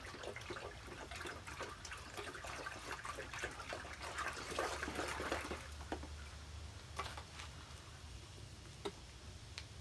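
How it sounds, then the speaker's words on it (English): Water poured from a gallon jug of mixed water onto dry potting soil while repotting a snake plant, a steady trickling pour with soft crackling ticks, fairly quiet and close, no talk. "And then give it just some water to begin with."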